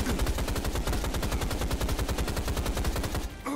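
Rapid automatic gunfire in the video game Rise of the Triad, a loud, fast, continuous burst of evenly spaced shots lasting about three seconds before stopping abruptly.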